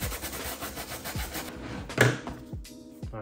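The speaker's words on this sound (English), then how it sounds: "this is where we're gonna start using a nylon brush or a non-adhesive brush, just so we can start working this up" A nylon brush scrubs an adhesive warning label off a car sun visor, giving a rhythmic series of close, dry rubbing strokes that keep going steadily with no one talking.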